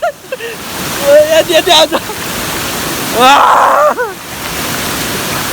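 A waterfall pours into a cold pool, its steady broadband rush running beneath close voices that talk over it throughout.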